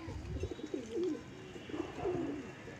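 Pigeons kept by a pigeon fancier in Allahabad coo in soft, wavering, throaty phrases. The calls repeat close by over a low background, with no talk.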